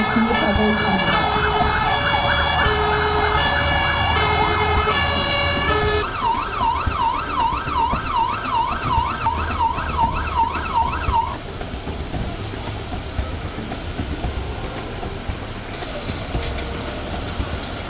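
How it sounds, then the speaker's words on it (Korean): A fire engine's loud wailing siren cycles up and down repeatedly over heavy traffic-like noise during a fire-response drill at Deoksugung Palace in Seoul, then gives way to a rumbling engine with bursts of electronic tones. "화재 진화를 위한 중부소방서 소속의 소방차량이 덕수궁 소방관을 통하여 화재 현장을"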